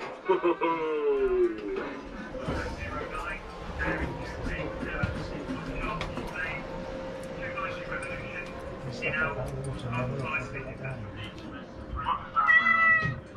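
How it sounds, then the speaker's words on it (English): A cat meows repeatedly inside a Second World War Royal Navy submarine museum, with drawn-out, wavering cries coming close and loud at the start and again near the end, while people talk in the background. "Roger, the Admiral's cat has left a little something for us again"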